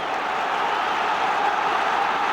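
Large football crowd at a Newcastle versus Blackburn FA Cup third-round match, a dense, steady roar of massed voices throughout.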